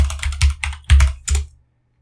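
Quick bursts of keystrokes on a computer keyboard as a passphrase is entered while setting up SSH and Git, loud and close in uneven clusters, then stopping.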